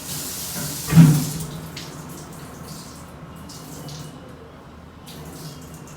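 Water pours with a brief splash at the start, then a soft, steady running and trickling continues, close by and with no speech.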